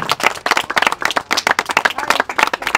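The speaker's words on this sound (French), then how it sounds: "Allez, on applaudit." A crowd claps at the inauguration of a new football pitch at a stadium, a loud, close burst of rapid, dense handclapping that carries on steadily without voices.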